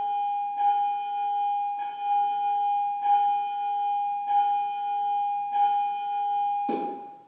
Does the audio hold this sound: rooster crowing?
no